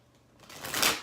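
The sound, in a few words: shuffling tarot cards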